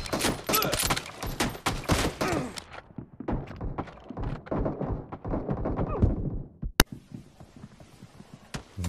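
Rapid gunfire in a team-based shooter video game, dense bursts of close, loud shots that thin into scattered single reports and thunks, with one sharp crack near the end, no clear talking.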